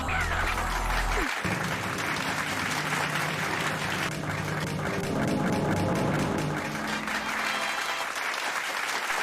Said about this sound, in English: Let's keep that applause going.